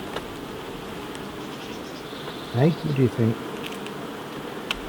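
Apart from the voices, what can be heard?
honey bees buzzing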